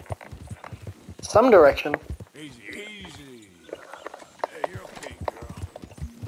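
A horse is ridden in a western video game. Its hooves clip-clop in a quick, uneven rhythm, and a short whinny-like burst rises near the start. Someone talks over the hoofbeats.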